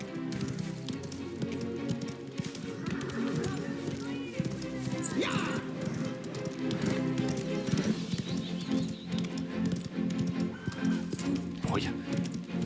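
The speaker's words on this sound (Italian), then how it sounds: "Non mi pare che far andare il cavallo su sentieri, su terreni diversi cambi la velocità della corsa." A horse runs across varied paths and terrain in the Mafia video game, with steady clip-clopping hooves under continuous game sound and someone talking over it.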